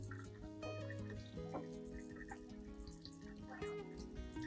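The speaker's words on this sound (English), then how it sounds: "I will thoroughly rinse the entire orchid clump with clean water." Water runs gently and splashes as a Cattleya orchid clump is rinsed under a flow, with small drips and trickles, quiet and close.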